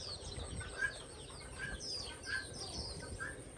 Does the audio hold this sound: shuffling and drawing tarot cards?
no